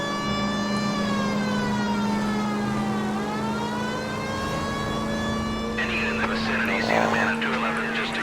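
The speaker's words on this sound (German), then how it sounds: "Sirene an und los geht's." Police car siren in the video game L.A. Noire wails continuously, with rising and falling tones under a steady low hum, loud and close throughout.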